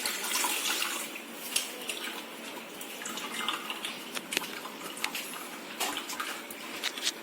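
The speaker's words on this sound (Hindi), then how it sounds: "इसी में ही चेरीज के पानी को भी डाल देंगे।" Cherry juice pours into a pan for making syrup, a steady close trickle and splash of liquid with small drips throughout.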